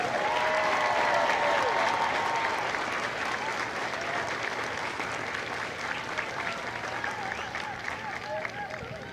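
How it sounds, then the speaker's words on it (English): Sustained applause from a large audience at a Marine Corps Company A recruit graduation ceremony at MCRD San Diego, dense and steady clapping filling the space for several seconds without speech. "please join me in a round of applause for the company staff of Company A"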